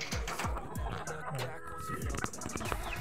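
A laying hen, a broody mother bird sitting on her clutch of eggs, clucks in repeated low bursts close by, with someone talking over it.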